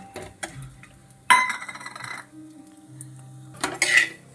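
Cashews and raisins frying in a pan for bread halwa, stirred with a utensil that scrapes and clinks against the metal in a few sharp bursts over a low, steady frying hiss.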